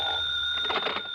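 An old-fashioned telephone bell rings once in a vintage radio drama, a short, steady electronic-sounding tone heard up close over a faint background hum.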